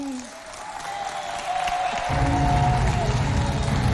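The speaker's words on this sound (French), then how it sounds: "Et toujours sous vos applaudissements" Audience applause at a cultural festival show, rising and thickening into steady clapping with a low crowd rumble, fairly loud after a quieter start; a voice speaks briefly near the beginning.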